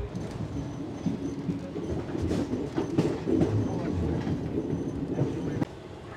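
Passenger train running at night from Sealdah to Madhupur, a steady close rumble of the carriage with rhythmic wheel clatter and occasional squeal, continuous for the whole stretch.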